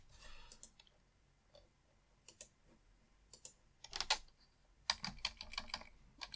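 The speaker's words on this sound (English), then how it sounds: "click on the audio track, click on the audio track, no, click on the audio track" Sharp mouse clicks and keyboard taps while working in Premiere Pro, quiet and close, coming in scattered single clicks and short clustered bursts with pauses between.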